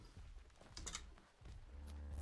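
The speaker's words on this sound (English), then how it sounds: "Oh, I'm typing." Keys tapped on a computer keyboard while playing the survival game Ark, a short run of close clicks over steady background noise.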